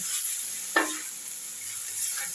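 Minced meat keema with ginger-garlic paste and spices frying in a pan for kima curry: a steady hiss of sizzling with one clear scrape of a spoon while stirring, close by.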